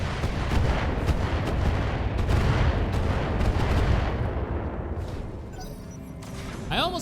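A salvo of long-range missiles in the mech combat game Battletech rips out as a dense, continuous barrage of loud booms and crackling blasts, rolling on for several seconds before tapering into a thinner rumble.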